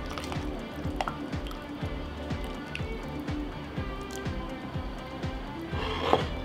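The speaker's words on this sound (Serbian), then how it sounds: "sada prelivam sa vrelom proključalom vodom i punim gore sve do vrha" Boiling water poured into glass jars packed with tomatoes, a steady gurgling liquid stream with soft repeated glugs and drips, close and continuous, no voices.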